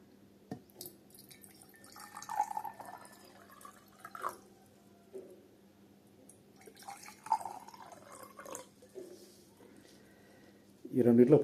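Water poured from a container into two drinking glasses indoors, a faint trickle that comes in soft bursts with a voice murmuring in the background, then a louder close splash and clink of glass at the end.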